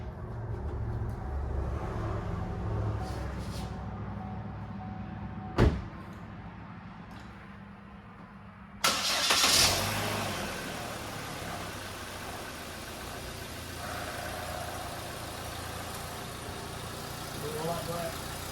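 A car engine cranks, catches and settles into a steady idle after an oil filter change, a sudden louder broadband rumble replacing the quieter background partway through, with muffled voices nearby.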